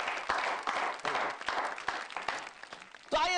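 Audience applause at a kavi sammelan poetry gathering, steady clapping from a crowd for about three seconds, moderately loud, before a voice resumes speaking.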